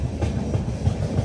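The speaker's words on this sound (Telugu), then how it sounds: "అటు సైడ్ ఇంకొక ట్రైన్ అయితే వచ్చింది" Another train rolls past on the adjacent track, a steady low rumble with rhythmic clickety-clack of wheels over rail joints, close and continuous with no talk.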